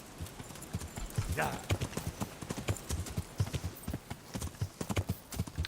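Horse hooves clip-clop in a quick, even rhythm in Kingdom Come Deliverance, with a short snort or whinny early on and a man's brief word over the steps.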